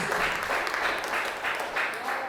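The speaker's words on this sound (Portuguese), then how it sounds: "As palmas é para nosso Deus." A church congregation claps during a worship service, a dense burst of applause that pulses in a loose rhythm and stays fairly loud through the short stretch.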